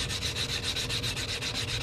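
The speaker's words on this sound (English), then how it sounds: "We're going to sand that down." Sanding the cut edge of a fine silver Aztec coin ring, a close, steady abrasive rasping that pulses in quick, even strokes.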